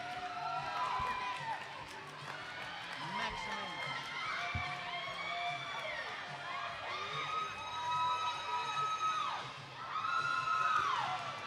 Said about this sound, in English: It looks like the crowd is going wild